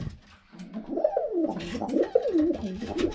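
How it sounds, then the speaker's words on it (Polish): Blue owl pigeons coo close by in a soft, continuous run of warbling, rolling coos with a faint rustling background. "Zawitały do nas niebieskie mewki."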